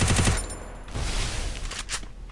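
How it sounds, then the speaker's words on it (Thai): Rapid automatic fire from a UMP submachine gun in the mobile game Free Fire, a short dense burst that comes in close and loud, then a looser run of shots with a reverberant tail. "UMP ก็เหมือนกัน ยิงขึ้นไปปึ๊บปึ๊บ"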